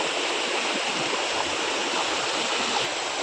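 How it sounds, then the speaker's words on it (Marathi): Sawatsada waterfall near Chiplun, running low after little rain, gives a steady, dense roar of falling water, close and unbroken throughout with no voices. "हा धबधबा बघा एकदम निसर्गरम्य वातावरणामध्ये आहे"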